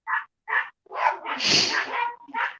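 Two large young dogs bark outdoors in a yard, a run of sharp close barks and yips in quick bursts, one longer drawn-out bark in the middle, with no talk over them.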